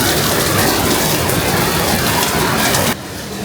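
Sudden heavy nighttime downpour on a street in Longhua's Guanlan old market area of Shenzhen, a dense, steady roaring wash of rain that drops slightly quieter near the end.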